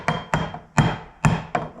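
Five sharp, ringing knocks land roughly every quarter to half second as a level is used to hammer a boiler fitting during an in-floor heating install, each hit close and clear with a short metallic decay and no voices.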